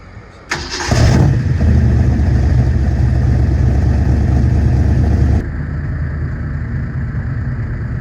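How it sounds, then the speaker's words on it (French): A V8 supercar at a Le Mans Classic gathering cranks and fires into a loud, full-bodied roar, holds a steady throbbing idle for several seconds, then settles to a quieter idle, close by with no talking. "on va écouter le start-up du V8"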